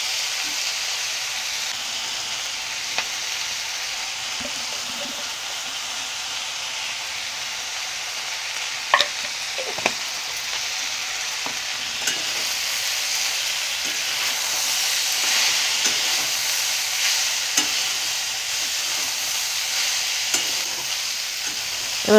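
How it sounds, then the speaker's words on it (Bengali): Vegetables fry in a pan over a medium flame, giving a continuous close sizzle and hiss with a few sharp stirring clinks scattered through it, and no voices. "আমি এটা ঢেকে ঢেকে একটু ভেজে নেব মিডিয়াম ফ্লেমে।"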